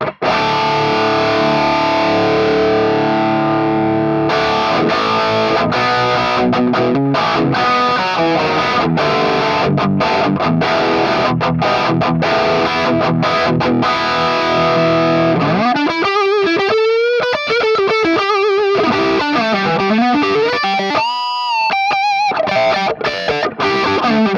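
High-gain electric guitar through a Hotone Ampero modeling a Marshall Silver Jubilee, playing loud saturated chugging riffs and chords, then squealing bent lead notes near the end, with no talking.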